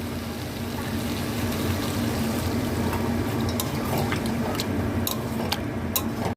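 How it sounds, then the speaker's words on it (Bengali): Water is poured into a pan of paneer and vegetable curry, making a steady, continuous hissing pour that runs for several seconds with no talk. "পনিরটা দিয়ে আমি এবার জল দিয়ে দেবো"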